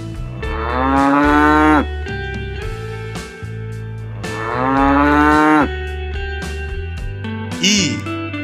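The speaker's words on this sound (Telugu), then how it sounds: "ఆవు." A cow mooing twice, long loud drawn-out calls close to the listener with a pause between, followed by a short higher sound at the end.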